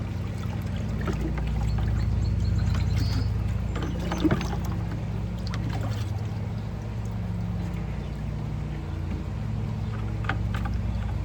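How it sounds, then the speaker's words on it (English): Water pours and trickles steadily as an acid container is rinsed out in swimming pool water, a continuous splashing wash over a low outdoor rumble, close by with no talking. "we rinse out our acid container in pool water"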